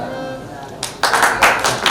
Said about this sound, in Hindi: सम्मान हो रहा है जोरदार तालियों से